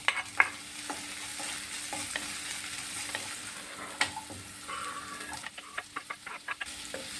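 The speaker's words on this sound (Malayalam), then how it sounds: "അതിലേക്ക് നമ്മൾക്ക് ഒരു സ്പൂണ് വെളിച്ചെണ്ണ ഒഴിച്ച് കൊടുക്കാം അതിന് ശേഷം നമുക്ക് ഈ പച്ചമുളക് ഇട്ട്" Green chillies sizzle in coconut oil on a tawa, a steady hissing fry with sharp crackles and spoon scrapes, quickening into a run of clicks and pops near the end, close and moderately loud.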